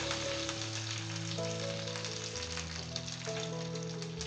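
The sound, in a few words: chillies and curry leaves sizzling in tempering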